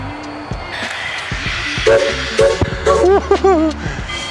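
Rumbling and clanking of a train in a small train yard in an old mining town, with hissing steam, a brief horn-like whistle and scattered metallic knocks.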